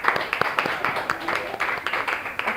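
A classroom group claps together, a quick run of sharp, fairly even hand claps that are moderately loud, with light voices mixed in underneath.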